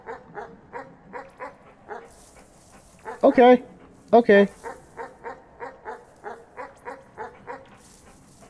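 A dog in the video game Animal Well barks in a steady repeated rhythm throughout, joined by a couple of louder yelps in the middle, while a person speaks briefly.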